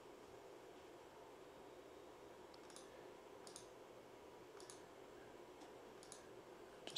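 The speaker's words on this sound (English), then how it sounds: "Just keep clicking along." Computer mouse clicks while scrubbing through security recorder footage: sparse, faint, irregular clicks spaced a second or so apart over a low steady hiss, no voices.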